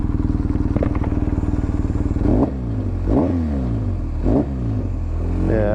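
A BMW R1250GSA motorcycle with a flashed ECU idles with a steady rumble, then revs several times in quick swells, close by and loud, with no voices.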